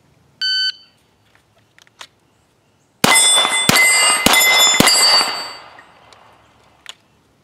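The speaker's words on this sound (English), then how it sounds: "The Glock with the J-point red dot on it shoots amazing here on this Ultimate Target Steel." A start beep, then a rapid string of gunshots from a Glock pistol fitted with a J-point red dot ringing off Ultimate Target Steel steel targets, sharp metallic clangs with a lingering ring that fades out.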